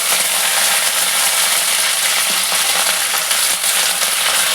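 Mustard seeds, five-spice, fenugreek, asafoetida and dried chillies sizzling in hot oil for sambar, a loud, steady hiss with small crackles and pops running throughout, no voices.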